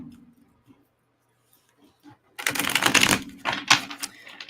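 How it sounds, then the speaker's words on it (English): A deck of tarot cards is given a quick shuffle after a quiet pause, a burst of crisp riffling and flapping card sounds, fairly close and alone. "Do a quick shuffle."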